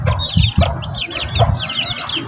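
Chickens and a few chicks peck at scattered grain, with soft clucks and low chirps under bright, repeated cheeping from the chicks, and brief pecking taps near the start.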